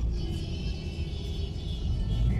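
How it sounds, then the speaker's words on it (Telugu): Busy road traffic in Vijayawada makes a steady, continuous low rumble of passing cars, with a constant wash of engine and tyre noise and no clear single vehicle standing out. "ట్రాఫిక్ చాలా ఉంది విజయవాడలో."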